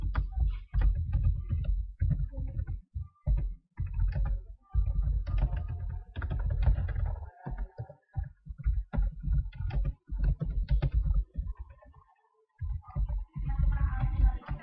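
Heavy, close keystrokes on a computer keyboard as text for an online ad is written, in bursts of dull thumping taps with short pauses and one longer gap, fairly loud.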